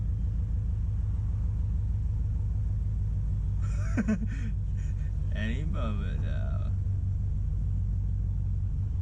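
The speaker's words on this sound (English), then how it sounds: "you're gonna feel the car start to go forward, and the revs are gonna start to drop" A Subaru BRZ idles with a steady low engine rumble while the clutch is slowly let out, the drone continuous throughout as two people talk briefly over it midway.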